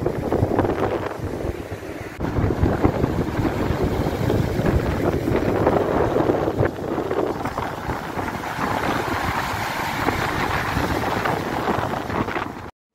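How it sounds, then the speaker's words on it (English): Strong wind gusting on a beach, a constant loud roar buffeting the microphone with heavy rumbling low noise and a little background surf, sustained without pause and no voices. "the wind was blowing bracingly"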